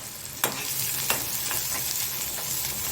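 Onion frying in a pan for an egg curry, a steady close sizzle with a couple of sharp spatula taps and faint stirring scrapes, no voices.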